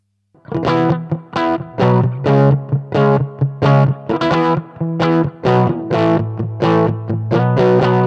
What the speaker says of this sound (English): Let's hear that same riff, but with the humbucker sound in the bridge pickup.